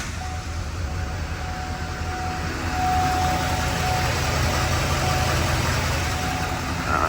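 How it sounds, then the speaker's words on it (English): A diesel engine, just repaired with a new glow plug number six, runs at a steady idle, a loud, even rumble with no voices that rises slightly partway through and holds. "Beginning engine starting sequence now."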